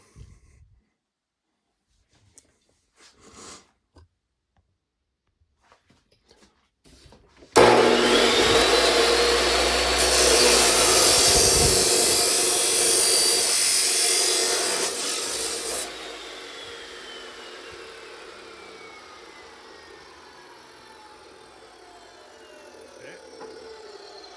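After a few quiet knocks, a Hercules 14-inch abrasive cut-off saw cutting metal starts abruptly with a loud harsh grinding screech, holds for several seconds, then winds down into a fading whir.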